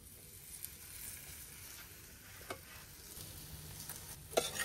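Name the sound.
paratha frying in a pan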